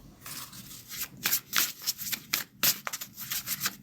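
A deck of oracle cards is handled and shuffled close by, a series of quick papery riffles and slides in uneven bursts separated by brief pauses, with no talking.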